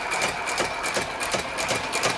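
A vintage cobbler's shoe repair machine in an old shoe shop runs smoothly and steadily, giving a soft, even mechanical whir with faint rhythmic ticking throughout.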